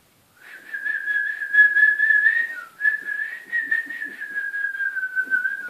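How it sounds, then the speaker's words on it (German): One person whistles a single sustained, slightly wavering tone for several seconds, close and clear, pausing briefly midway before holding the note again. "7 Sekunden lang pfeifen"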